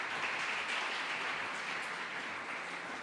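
A church congregation claps in a dense, even wash of applause that holds steady throughout, moderately distant and without talk.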